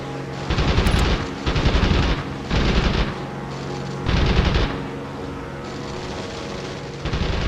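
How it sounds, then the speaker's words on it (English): Rear-facing machine gun fire from a Stuka in the video game Wings of Prey: five or six dense rattling bursts, each about half a second long, evenly spaced over a steady aircraft engine drone. "Stuka's had these rear-facing machine guns that you can see."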